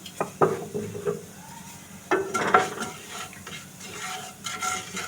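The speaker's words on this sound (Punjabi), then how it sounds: "ਇੱਕ ਚੁਟਕੀ ਪਾਵਾਂਗੇ ਅਜਵਾਇਣ ਅੱਧਾ ਚਮਚ ਪਾਵਾਂਗੇ ਜੀ ਸਾਬਤ ਜੀਰਾ ਇਹਨਾਂ ਮਸਾਲਿਆਂ ਨੂੰ ਹਲਕਾ ਜਿਹਾ ਅਸੀਂ ਭੁੰਨ ਲਵਾਂਗੇ ਜੀ" Carom seeds and cumin seeds dry-roasting in a pan, with soft sizzling and several clinks and scrapes of a spoon stirring against the metal, close and fairly quiet.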